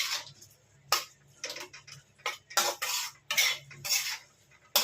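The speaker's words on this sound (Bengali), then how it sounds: "একটু নাড়িয়ে দিলাম ভালো করে।" Pointed gourd curry stirred in a pan, a series of separate scraping and clinking spoon strokes against the pan with short pauses between them, close, over a low background hum, no talking.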